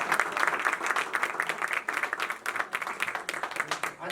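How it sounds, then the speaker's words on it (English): Audience applause at a Black History Month celebration in a museum, a close, dense, sustained clapping that rises and falls in waves, with a faint voice beneath. "I think that they deserve a round of applause."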